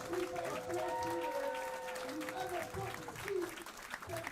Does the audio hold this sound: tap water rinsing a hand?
no